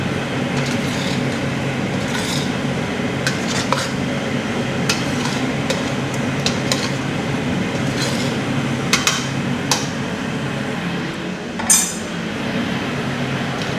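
Pinakbet vegetables stirred in a pot, a continuous low simmering rumble with scattered light clinks and scrapes of a utensil against metal, one sharper clatter near the end.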